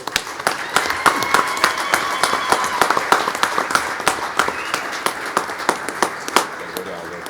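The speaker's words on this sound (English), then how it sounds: "Ladies and gentlemen, please, a round of applause for Helen Marules." Audience applause at a press conference welcoming a wrestling medallist, with individual claps sharp and distinct against a roomy background, a loose sparse clapping that carries on steadily and stays moderately loud throughout.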